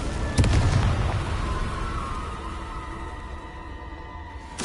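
A Confringo spell blast in the game Hogwarts Legacy goes off as a loud, close boom with a sharp crack at the start, then a long rumbling decay that fades out before a second hit begins.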